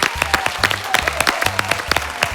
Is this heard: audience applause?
yes